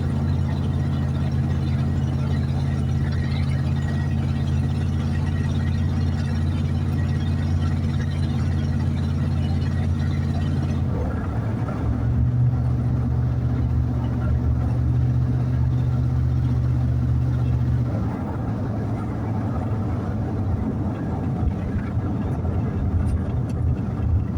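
A 1973 Plymouth Fury III drives along with a low, steady engine drone and hum. The note shifts and roughens midway as the car slows or changes speed, then settles into a quieter rumble.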